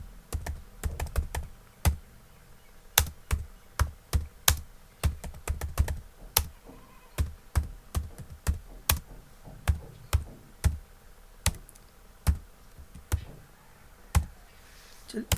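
Someone types steadily on a computer keyboard in MS Word, with bursts of crisp, close keystrokes and then more evenly spaced single taps, likely tab and return presses, all with no talking.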